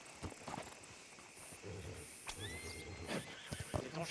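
A horse in the video game Red Dead Redemption gives a short whinny over quiet game ambience, with a faint voice and light hoof sounds around it.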